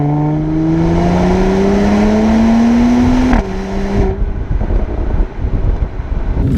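A 2018 Mercedes-AMG C43 Coupe 4MATIC engine and exhaust under way, the tone rising steadily through a gear before a shift drops the pitch, loud and close, with wind and road noise beneath.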